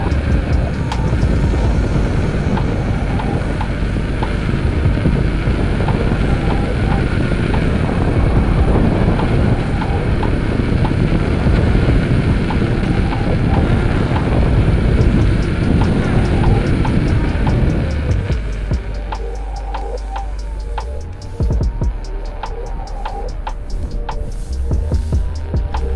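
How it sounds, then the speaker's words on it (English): Strong, steady wind roars and buffets against a microphone through most of a ride, then eases near the end, leaving lighter rumble and scattered knocks. "It is windy out here"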